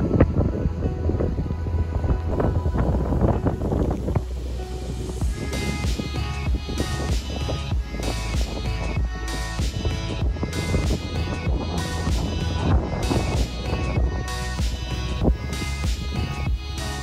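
Strong evening wind blows steadily along the Gaspésie coast as rain approaches, a broad continuous roar with gusty rustling and rhythmic surges, loud and close to the microphone with no voices.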